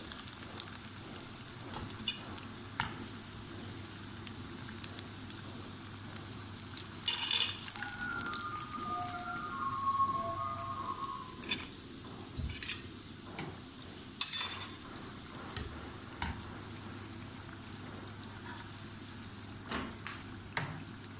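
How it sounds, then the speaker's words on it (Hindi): Pakoras deep-frying in hot oil give a steady low sizzle and crackle, with scattered clinks and scrapes of a utensil against the pot, moderately quiet and without talk. "बाकी भी हम इसी तरह फ्राई कर लेंगे"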